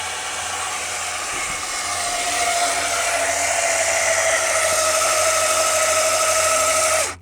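An AGM Electric Jack PRO lifts a Can-Am Commander side-by-side. It makes a steady, close electric motor whine that holds throughout, grows slightly louder partway through and cuts off abruptly at the end.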